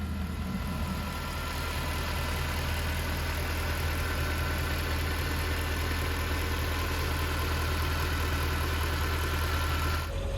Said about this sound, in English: On idle, this engine is incredibly smooth and quiet.